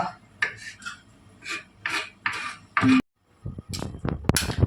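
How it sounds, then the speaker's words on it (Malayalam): Vegetables being chopped for uttapam in a home kitchen: a series of close knife strikes and scraping rasps against a board, with a short pause before a denser burst of quick cuts near the end. "ഊത്തപ്പത്തിലേക്കുള്ള വെജിറ്റബിൾസ് കട്ട് ചെയ്തെടുക്കുകയാണ് കേട്ടോ"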